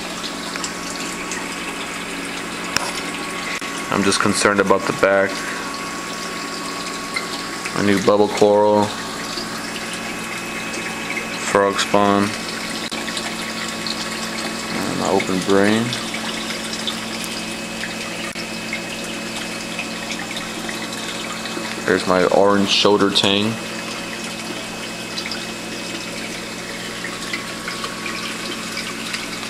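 A single aquarium power head circulates water in a reef tank with a steady, low churning hum beneath a man's intermittent speech.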